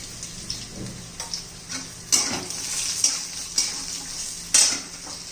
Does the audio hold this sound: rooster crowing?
no